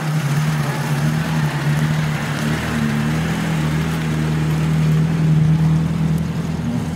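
A car drives in with a steady low engine drone, close and moderately loud, holding an even rumble throughout with no talk over it.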